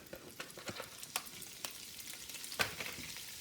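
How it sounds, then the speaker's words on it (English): Ground pork sizzles and crackles in a hot pan for meat sauce, with sharp spatters and occasional stirring scrapes, steady and close. "So I hear that sizzling right now, so I'm going to dump this in here."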